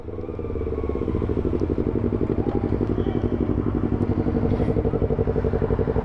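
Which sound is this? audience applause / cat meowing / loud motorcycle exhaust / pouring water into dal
loud motorcycle exhaust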